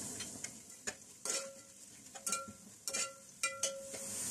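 Garam masala spices, including mace, frying with onions in a pot for chicken Mughlai biryani, heard as a soft steady sizzle broken by repeated sharp metallic scrapes and clinks of stirring, fairly close and with no talking.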